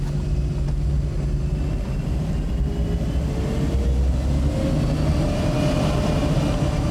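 A Chrysler Turbine Car idles at 20,000 RPM with a smooth, jet-like roar and a faint high whine that slowly rises in pitch, constant throughout with no talking.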